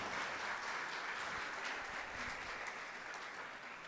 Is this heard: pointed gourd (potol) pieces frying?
no